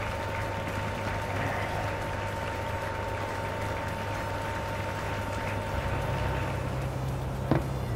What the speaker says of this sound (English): Let's give our worthy contender another thunderous round of applause.